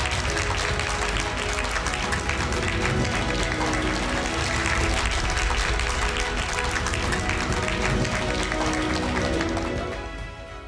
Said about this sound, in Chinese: 请大家以热烈的掌声恭迎今日的主礼嘉宾进场